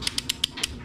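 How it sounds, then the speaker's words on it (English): A torque wrench tightening a connecting rod bolt gives five sharp, evenly spaced ratcheting clicks up close, each a brief bright tick, with no talk over it. "Go ahead and torque this thing real quick."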